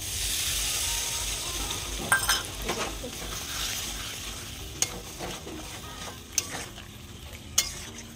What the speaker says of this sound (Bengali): চিকেনটা করছে একটু সবে আলুটা কষা হচ্ছে